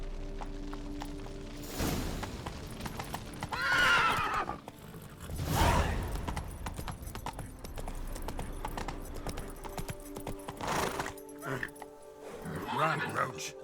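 The horse Roach gallops in The Witcher 3, steady clip-clop hoofbeats with occasional whinnies and snorts, close and fairly loud, with a voice talking over them at times.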